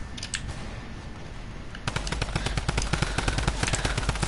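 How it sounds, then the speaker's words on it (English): A Tommy gun fires in a video game: rapid, loud bursts of automatic gunfire start about halfway through and continue steadily, following a brief quieter stretch with a few scattered clicks. "The Tommy gun's back!"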